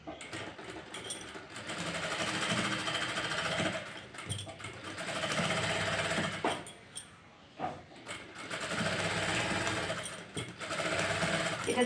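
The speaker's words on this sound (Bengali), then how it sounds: "এটা দেখো লাইনিংয়ের উপরে চাপ সেলাইটা দিচ্ছি।" A sewing machine runs press stitching over lining fabric with golden thread, a close steady whirring rattle in several bursts separated by brief pauses, with no talking over it.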